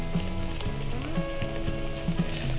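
Nimki dough pieces sizzling as they are dropped one by one into hot white oil, a steady close crackling fry with small pops and a few soft clicks.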